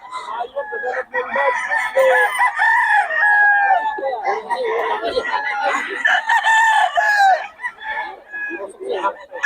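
Many chickens cluck and crow together in a busy, continuous chorus at a poultry market in Bocaue, Philippines, close by and loud, with roosters calling over the flock's chatter.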